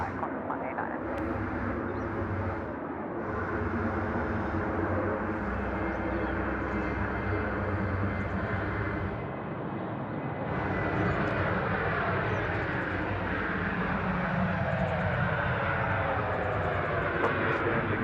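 A loud, continuous airplane engine roar at Sydney Airport, likely a takeoff on runway 34 left, swells and rumbles for the whole stretch with a faint voice briefly underneath.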